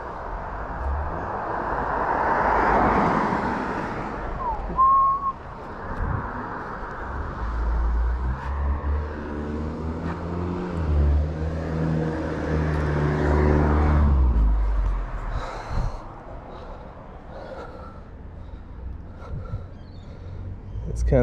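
Cars pass along a Gold Coast street in several long, swelling whooshes, with engine rumble rising and fading as each vehicle goes by. A low, steady traffic background runs throughout.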